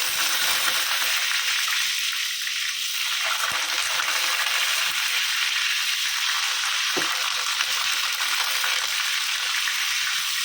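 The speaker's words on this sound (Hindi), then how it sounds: "आलू पानी में थे इसलिए चटक रहे हैं।" Wet potatoes sizzle loudly as they fry in hot oil, a constant crackling hiss with occasional sharper pops, close up and without any talking.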